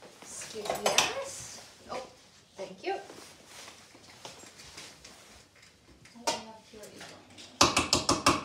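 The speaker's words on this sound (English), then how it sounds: "You'll need a spoon or something to scoop out the peanut butter." While banana oatmeal cookies are being made, a spoon scoops and scrapes peanut butter in a bowl, giving intermittent clinks and scrapes under ongoing talk. A rapid, loud clatter of metal against the bowl comes at the end.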